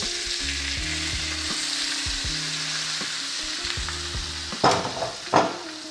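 Seasoned herb butter poured over a ribeye steak in a cast iron skillet makes a continuous sizzle under a steady low hum, with two louder spattering bursts near the end, close up.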